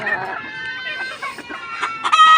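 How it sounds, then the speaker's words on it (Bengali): Several hens in a farm cage clucking and squawking close by, overlapping calls that grow louder toward the end. "এখানে যে 3টা মুরগি আছে 3টা প্রচুর ডিম দেয়।"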